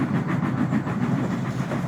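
A train rumbles past close by over a bridge with a heavy, rhythmic rolling clatter, loud and steady over the short stretch.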